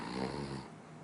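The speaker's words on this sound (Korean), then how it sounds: "입을 다물고 코를 골다가" A person snores with the mouth closed, one faint, short, rough nasal snore that fades out after half a second.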